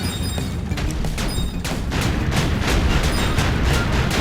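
Missiles fire repeatedly in Kirby's Epic Yarn video game, a loud steady barrage of thumping shots and booms in quick succession.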